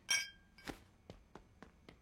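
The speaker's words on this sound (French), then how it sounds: "Allez-y, trinquez." Glasses clinking in a toast: one bright ringing clink followed by several lighter taps spaced out over two seconds, quiet and close.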